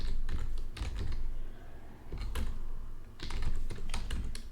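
Rapid typing on a computer keyboard comes in close, dense bursts of clicking keys, with brief pauses between flurries.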